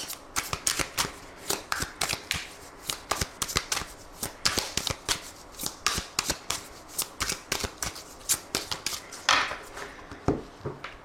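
Tarot cards are shuffled by hand in quick, crisp bursts, a steady run of riffling slaps and flutters close to the mic that continues for several seconds with no voice.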